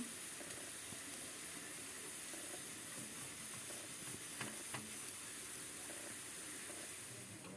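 Mutton cooking in a pressure cooker on a home stove lets out a faint, steady steam hiss that runs continuously in the background.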